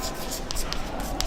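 Pen or marker writing out the final lines of a maths solution on forces in equilibrium, short scratchy strokes in quick succession, close and fairly loud, with a voice speaking over it.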